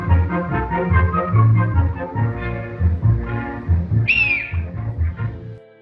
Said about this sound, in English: a swallowed whistle causing chaos at a party